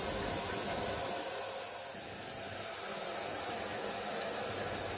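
An ultrasonic cleaner works on carburettor bodies and float chambers from a BSA Rocket Three, giving a steady, even hiss with a faint high whine held throughout, dipping only slightly midway.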